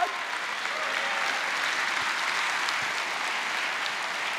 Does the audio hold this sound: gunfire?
no